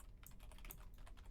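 Someone types on a computer keyboard, producing quick, soft, irregular clicking keystrokes that are faint and continuous, with no voices.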